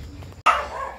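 Dogs give a sudden sharp bark up close after a low background murmur, the bark ringing out briefly and trailing off within the second.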